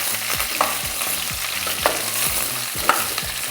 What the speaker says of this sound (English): Just stir this a little.